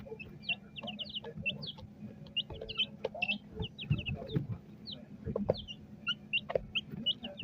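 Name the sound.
chickens clucking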